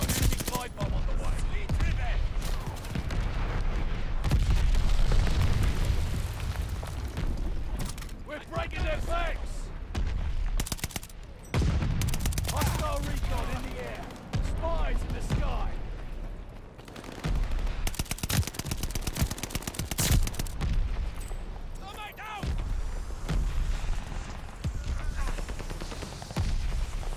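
In a Call of Duty: Vanguard team deathmatch, gunfire and artillery shells boom in dense, repeated bursts and rattles, mixed with shouted in-game voices.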